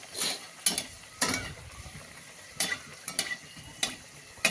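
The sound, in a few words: puris deep-frying in oil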